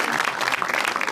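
Studio audience applauding at a Komedixana comedy show, a dense burst of close, loud clapping filling the whole brief moment without pause.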